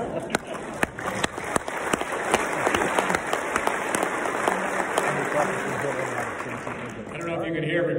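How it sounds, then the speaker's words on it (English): A luncheon crowd at the NLF award event laughs and applauds together, with sharp claps scattered over a continuous wash of crowd noise that lasts the whole stretch, heard as if relayed over a call. "everybody's laughing and everybody's applauding"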